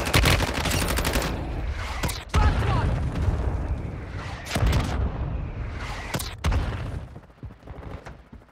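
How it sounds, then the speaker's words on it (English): In the video game Warzone Mobile, dense gunfire crackles loud and close, broken by several heavy booming mortar strike explosions, with voices partly heard under the fire. "Mortar strike inbound."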